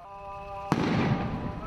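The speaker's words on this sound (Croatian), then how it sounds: "Nakon što je pukao top i začuo se ezan sodžačke džamije" A single sharp boom from a cannon fired to mark iftar, bursting suddenly after a steady tone and trailing into a rumbling, noisy decay.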